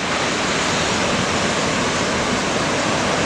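Ocean surf breaks at an early-morning beach break in Anglet, heard as a dense, continuous roar of whitewater with no pauses and no voices.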